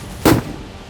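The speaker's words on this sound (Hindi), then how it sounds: "भेड़ियों को खदेड़ने के लिए बहराइच के गांव-गांव में इस तरह के पटाखे फोड़े जाते हैं।" A single sharp firecracker bang goes off in a village in Bahraich, set off to drive away wolves, with a brief rumbling tail fading into quiet outdoor ambience.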